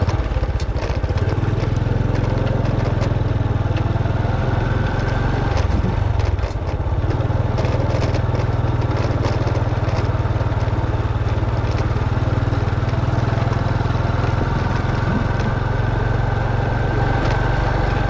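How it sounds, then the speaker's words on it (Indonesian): A motorcycle rides along a street by day in Pematang Siantar, its engine a loud, steady, close drone with road and wind noise and no talking. "Motor siang hari di Jalan Narumonda Atas"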